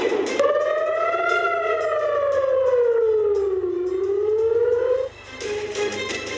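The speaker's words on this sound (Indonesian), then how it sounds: "Sirine pertahanan bergema di langit malam Israel." Civil defense air raid siren wailing over Israel at night, a loud sustained tone that rises and falls slowly in pitch, then drops off abruptly before resuming on a lower steady note.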